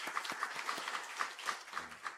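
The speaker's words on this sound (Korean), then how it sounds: "우리 잘 갔다 온 우리 청년들 향해서 우리 한번 박수로 그렇게 격려해 주셨으면 좋겠습니다." A church congregation at a Sunday afternoon service claps to encourage a returning youth group. It is a brief, steady, rhythmic burst of many hands clapping together, fairly soft and slightly distant.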